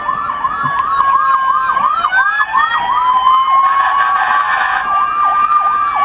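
An electronic siren from a customized Fisher-Price toy fire engine with an added speaker wails in quick rising-and-falling whoops, steady and fairly loud, with a faint mechanical hum underneath.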